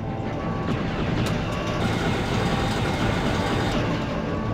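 A train rolls steadily along the rails in the Star Wars: Shadows of the Empire game, a continuous loud rumble with faint clanking and high metallic tones layered over the constant roar.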